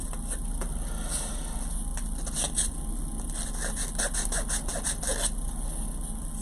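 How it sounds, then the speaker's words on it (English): A small handheld sander works the inside of a ring, giving repeated short scratchy, squeaky strokes over a steady background hum, close by and moderately loud with no talking. "This is a sander too. This is for doing the insider rings."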